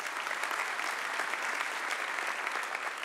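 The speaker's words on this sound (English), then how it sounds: "you can give a clap offering of praise to God." A church congregation claps in steady, dense applause that fills the room for a few seconds without any voices.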